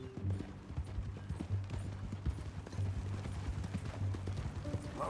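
Horse hooves clip-clop at a steady walking pace in Red Dead Redemption 2, an even repeating beat under a low game background, fairly faint, with no talk over it.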